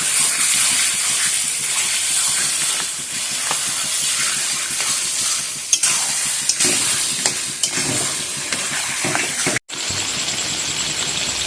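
Mutton stir-frying for kosha, a dense steady hiss of frying with repeated spatula scrapes and knocks against the pan, one brief cut near the end, no talking.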